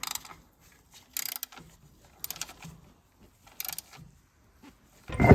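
Screws being tightened on the guard of a Ferris 500S zero-turn lawn mower, with short bursts of ratcheting clicks separated by quiet pauses, close and fairly faint.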